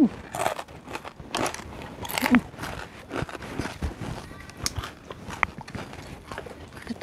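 Thin homemade cassava crackers (opak) spiced with kencur crunch as they are bitten, giving several close, dry snaps and crackles spread through the moment with no talk.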